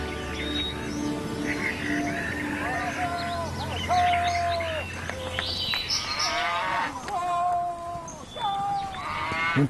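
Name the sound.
cattle mooing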